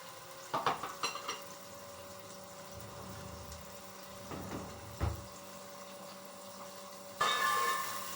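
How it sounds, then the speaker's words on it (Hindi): Chopped onion frying in a pan and being stirred, a soft low sizzle under a few scattered clinks and scrapes of a spoon against the pan, with a louder burst of sizzling near the end. "इसको तल रहे हैं हम, कटी हुई प्याज को।"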